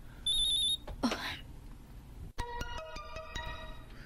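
A mobile phone chimes a text message alert, a short warbling electronic tone, followed after a rustle and pause by a rapid series of bright plinking notes, close and clear.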